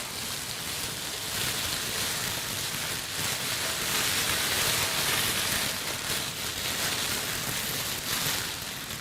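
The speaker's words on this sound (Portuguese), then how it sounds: "fogo" Crackling fire as a sound effect: a dense, steady hiss of tiny pops and crackles that holds at an even level throughout, with no voices.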